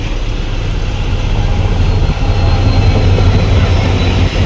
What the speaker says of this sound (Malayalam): രണ്ട് ദേ ഒരു ട്രെയിൻ